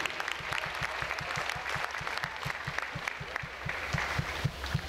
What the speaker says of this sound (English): how about a nice round of applause for our officials this evening?